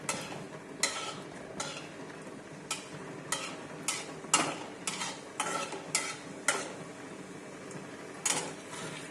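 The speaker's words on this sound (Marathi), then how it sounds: "थोडंसं जिरं घालते मी त्याचबरोबर थोडीशी मोहरी घालते आणि तडतड होईपर्यंत फक्त आपण ठेवणार आहोत" Mustard and cumin seeds crackle and pop in hot oil: sharp, irregular snaps over a soft, continuous sizzle, close up with no voices.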